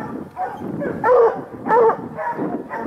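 A coonhound barks at a raccoon treed in a leaning tree beside a small maple outdoors, two loud, clear bays over a steady background, with another dog nearby.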